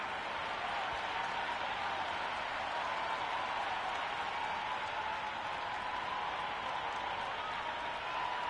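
A packed stadium crowd at an England versus Pakistan T20 International in Cricket 26 roars in a steady, continuous wash of cheering and clapping, fairly distant and unbroken.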